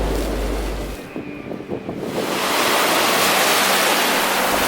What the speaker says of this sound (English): I wake up on soft sand with the sound of the waves close by.